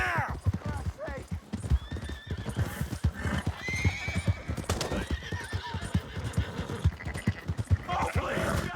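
Horse hooves clip-clop steadily up close in Red Dead Redemption 2, joined by a loud whinny, while frantic voices shout and plead over the galloping.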